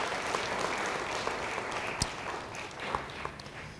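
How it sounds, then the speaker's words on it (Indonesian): A church congregation claps together in steady, moderately distant applause, a soft continuous patter with a few sharper individual claps, no talk over it. "Yang mau beri tepuk tangan bagi dia."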